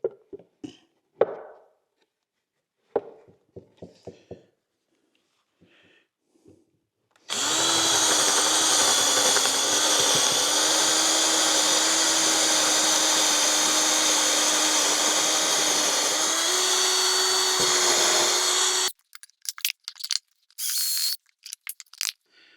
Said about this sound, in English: Let's just bore these holes straight through.